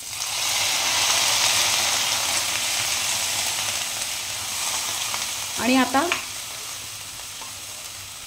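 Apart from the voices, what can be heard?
onion being sautéed in a pan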